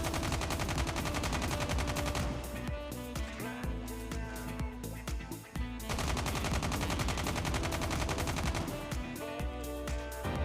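Rapid automatic fire from a BK-57 assault rifle in Call of Duty Mobile, sustained bursts of dense shots over a loud game soundtrack with a brief dip midway.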